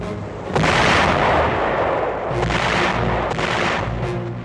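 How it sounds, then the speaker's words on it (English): Heavy artillery bombardment of Lingayen Gulf's southern coast during a wartime amphibious landing: a loud, continuous roar of rumbling blasts with sharper booms rising out of the din, no voices. "a 2-hour bombardment is concentrated on Lingayen Gulf's southern coast."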